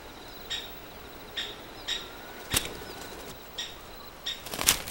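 A great spotted woodpecker fledgling leaving its nest in an oak forest, with several soft, brief bursts of wing flapping spaced a second or so apart, the final flurry louder, over a quiet woodland background.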